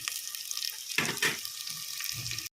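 Onions with curry leaves and green chillies frying in a pan, a steady bright sizzle with a couple of louder stirring scrapes in the middle, then an abrupt stop.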